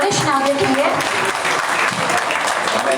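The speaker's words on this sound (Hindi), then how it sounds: "तालियां, जोरदार तालियां होनी चाहिए हमारे वरिष्ठ नागरिक के लिए।" Loud, sustained applause from an audience welcoming a senior citizen at a community felicitation, dense steady clapping throughout with voices mixed in.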